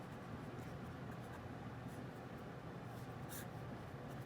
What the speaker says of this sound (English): So I'm going to write my formula